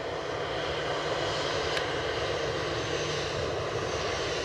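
A British Airways jet airliner at Edinburgh Airport gives off a steady, broadband engine roar. It holds level and continuous with no voices, like a single aircraft passing at a moderate distance.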